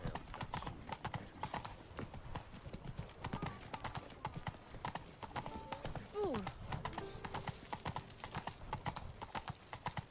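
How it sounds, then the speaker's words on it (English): Horse hooves clip-clop rapidly in The Witcher 3 as the rider's mount gallops, a steady quick rhythm of hoofbeats, fairly faint, with a brief whinny near the middle and no talk over it. "Whoa there, Roach."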